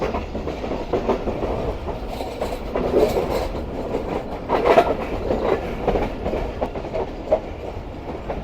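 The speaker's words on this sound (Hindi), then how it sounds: "चले जी, पहाड़ के अंदर पहुंच चुकी है ट्रेन।" The Rehman Baba Express rolls into a mountain tunnel with a continuous close rumble and rhythmic wheel clatter that swells and fades slightly throughout.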